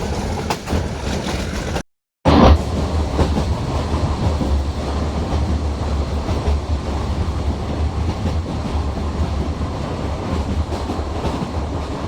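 A metre gauge train runs from Junagadh toward Chalala, giving a loud, continuous rumble with rattling wheel clatter. A brief dropout near the start interrupts it, then the steady roar carries on.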